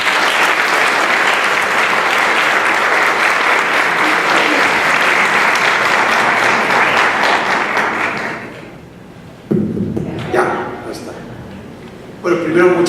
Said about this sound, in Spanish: Les pido recibamos con un fuerte aplauso al doctor Felipe Tirado Segura.